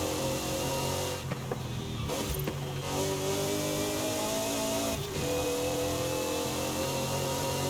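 A car engine in Forza Horizon 5, heard from inside the cabin, drones steadily with a sustained tonal hum, briefly dipping and recovering as if shifting gears.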